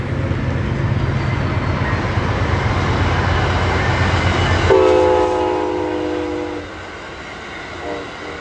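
An Amtrak Floridian passenger train departs Tampa with a steady rumble of rolling cars, then a loud horn blast partway through before the rumble fades and quiets.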